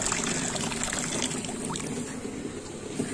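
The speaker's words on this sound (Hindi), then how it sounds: "ये हमारा कटोरा भर गया पानी का" Water poured into a bowl for pigeons: a faint, continuous splashing trickle, steady and close, with no talk.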